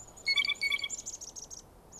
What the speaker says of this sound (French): Il y a des oiseaux.